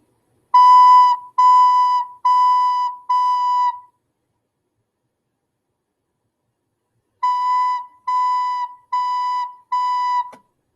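A recorder sounds four even, steady notes of equal loudness, falls silent for about four beats, then repeats four more identical notes; clear and close with no talking.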